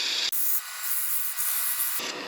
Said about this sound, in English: I'm just going to sand the wood really good first